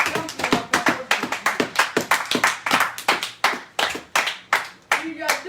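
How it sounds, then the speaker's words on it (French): A church congregation claps in praise during a French-language sermon, a close, steady run of many hands striking in a quick, fairly even rhythm for several seconds. "Acclame pour la parole de Dieu"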